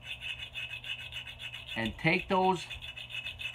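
A chainsaw file rasps around the inside of an axe eye while a cruiser axe is hafted, giving a soft, repeated rubbing scrape under a voice, which cuts in briefly.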